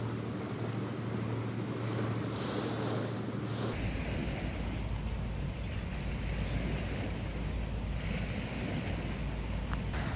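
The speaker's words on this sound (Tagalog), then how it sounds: "yung alon lang, ang lakas ng alon" Strong waves on a river at a riverside fishing and camping spot in Moline, Illinois, making a steady, loud wash of rushing water with heavy wind buffeting the microphone throughout, and no voices.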